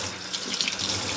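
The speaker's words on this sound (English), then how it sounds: "Now I'm going to turn the water on, rinse my hands, and do the same action." Tap water runs steadily into a sink while hands are rinsed during cleaning of a beauty blender sponge, a close, continuous splashing rush.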